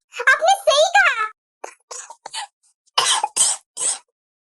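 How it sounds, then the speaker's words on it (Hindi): A cartoon girl coughing, a short voiced vocal outburst followed by a string of harsh, breathy coughs with brief pauses between them, close and loud. "इतना तूने क्या खा लिया जो खांसी और उल्टी चालू हो गई तेरी?"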